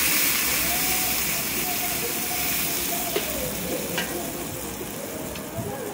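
Water poured into a pan of sizzling red spice masala raises a loud steamy hiss and frying crackle, with stirring scrapes and a few clicks of utensil against the pan.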